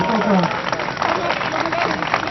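Outdoor crowd applause after a mountain half-marathon, a steady diffuse patter of clapping mixed with talking voices and general crowd noise.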